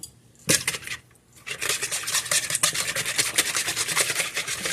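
Pancake batter for homemade blueberry pancakes whisked briskly in a bowl, with a sharp clink at the start, then a rapid, steady run of scraping, clattering strokes close by.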